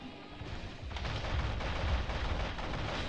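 Rapid weapon fire in the mech video game Heavy Storm Shadow, a dense, continuous burst of shots rumbling at steady volume over a few seconds, with no talking.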